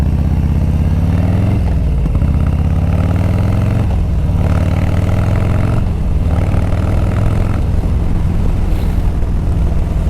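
A Harley-Davidson motorcycle engine fitted with aftermarket exhaust pipes rumbles loud and close, with deep revs rising and falling across the stretch, alone without talk.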